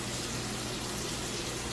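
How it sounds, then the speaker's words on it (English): A kitchen sink faucet runs steadily during a home inspection, a continuous loud rush of water with no pauses. "right now he's got the water going"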